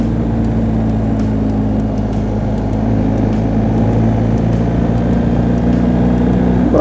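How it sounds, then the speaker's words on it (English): A 2019 BMW R1250 GSA motorcycle on Dunlop Trailmax tires rolling through sharp corners on a chilly day, heard as a loud, steady engine and road drone with constant rumble and occasional faint ticks, no voices. "gently taking these nice sharp corners, the bike's rolling through it just fine"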